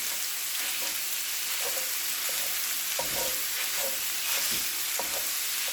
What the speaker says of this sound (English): I'm going to smash up or crumble up my sausage. Make sure it doesn't stick.